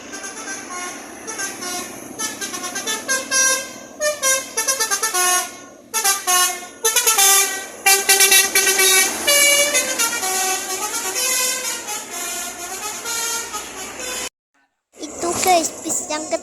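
An Agam Tunggal Jaya bus sounds its telolet musical horn, playing a loud tooting melody of repeated tonal bursts up close, with a short pause before a final blast.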